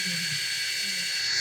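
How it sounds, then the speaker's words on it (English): A low-RPM polisher running around 600 RPM on a quartz countertop at a trade show demo gives a steady, close broadband whir with a faint low hum beneath, continuous throughout. "Move the polisher very slow across the surface and make sure you overlap about a quarter pad with each grit"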